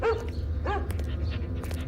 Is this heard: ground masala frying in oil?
no